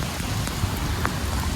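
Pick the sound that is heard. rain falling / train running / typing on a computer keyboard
rain falling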